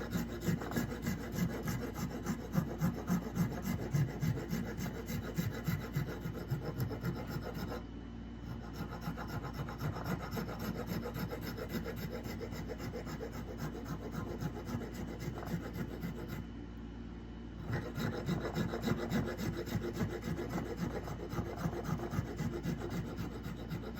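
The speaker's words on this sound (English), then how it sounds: "This one is a dragon rasp." A dragon rasp files a wooden nut for an Outlaw Fiddle EV3 electric fiddle, with steady back-and-forth scraping strokes at close range and two brief pauses between runs, with no talking.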